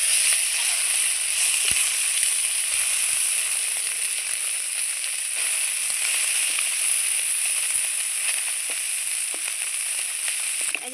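Small puti fish sizzle and spit in hot oil in a wok after being flipped, a steady, loud frying hiss that runs unbroken throughout with no voices.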